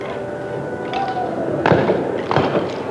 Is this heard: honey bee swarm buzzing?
no